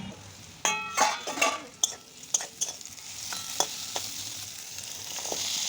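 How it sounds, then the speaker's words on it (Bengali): Teasel gourd pieces frying in oil with salt and turmeric in a wok, with a sharp clatter of utensil strokes against the pan over a soft sizzle that thickens into a steady hiss, close by. "এবার নুন আর হলুদটা কড়াইয়ের মধ্যে দিয়ে আমি কাঁকরোলগুলো ভেজে নেব"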